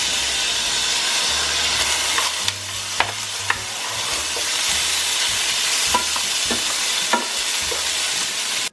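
Vegetables with a tablespoon of minced garlic sauté in a pan for a chicken vegetable pie, giving a steady close sizzle broken by clicks and scrapes of stirring, with no talk.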